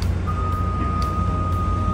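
A truck reverses out near Caticlan port, its backup alarm beeping in a steady, evenly spaced pattern over a constant engine rumble.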